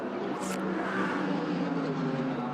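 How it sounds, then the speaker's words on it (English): A Barwell Lamborghini GT race car in the pit lane at Imola during free practice, its engine a steady mid-distance hum and rumble for a few seconds, with no one speaking. "This is the Barwell 77 Lamborghini in the pit lane."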